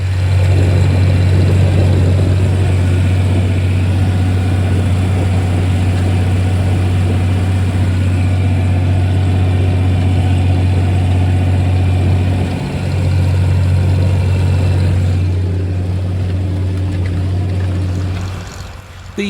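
A 1961 John Deere 4010 six-cylinder petrol tractor hitched to 9-foot John Deere H2000 discs runs with a loud, steady low rumble, dipping briefly then fading toward the end.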